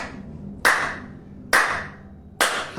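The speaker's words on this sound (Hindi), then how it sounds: "तालियां बजाने के दौरान पॉइंट दिखते" Hands clap during a yoga exercise, three loud, sharp, close claps about a second apart, each followed by a short fading ring.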